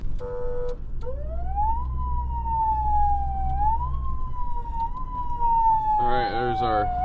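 Cattle caking siren on a feed truck calling cows to feed, a loud rising and falling electronic wail with sweeping tones, ending in a warbling burst.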